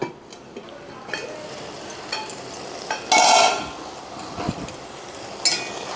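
Pulao rice cooking over low heat in a covered pot, lid lifted and the rice stirred, giving a few soft scraping clinks and a brief louder rattle of the lid near the middle, quiet throughout.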